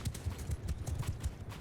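Hoofbeats from horses caught up among infantry in Mount & Blade II: Bannerlord, a dense, rhythmic clatter of close hooves repeating through the moment without a break.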